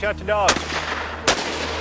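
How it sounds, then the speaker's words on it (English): Two sharp, loud gunshots about a second apart ring out during a panicked shootout between U.S. Marshals and local boys at Ruby Ridge, with a low droning tone underneath. "a flurry of panicked gunfire breaks out between the Marshals and the boys"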